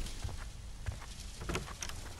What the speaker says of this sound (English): Oh no, that's rain.